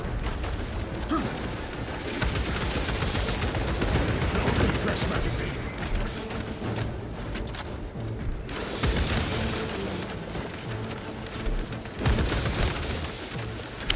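Dense, continuous combat gunfire from the Space Marine video game, with heavy rapid shots and booming impacts layered together at close, loud range, with voices talking over it at times.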